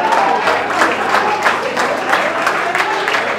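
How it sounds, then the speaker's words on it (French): A church congregation claps during a sermon, with loud, close applause in which individual claps stand out in a quick, slightly uneven rhythm, and faint crowd murmur beneath. "Est-ce qu'on peut applaudir pour le grand frère Pierre, s'il vous plaît?"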